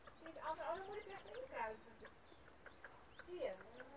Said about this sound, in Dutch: Zelfs de kippen snappen er niks van, nu jij het doet.